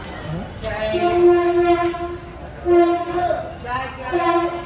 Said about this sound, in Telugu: కూకట్పల్లి స్టేషన్ నుంచి కూడా ట్రైన్ స్టార్ట్ అయిపోయింది